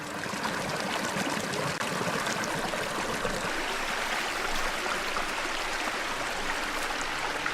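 A natural water stream on a teak plantation flows steadily with a dense, continuous rushing and trickling wash, close and unbroken throughout.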